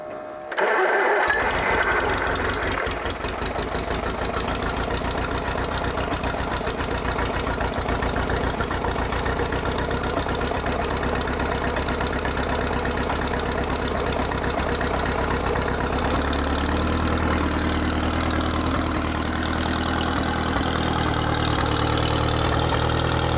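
A donor car engine cranks briefly and catches, then settles into a loud, steady idle with a rough, knocking rumble that lowers in pitch near the end, heard close up with no talk.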